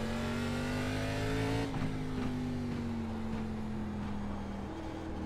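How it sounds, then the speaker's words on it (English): Race car engine in the iRacing simulator during an ARCA Menards Series race at Lanier National Speedway, a loud sustained engine drone with a steady whining pitch that drops slightly as a car leaves the pit lane, no voices. "There's a car leaving the pit lane."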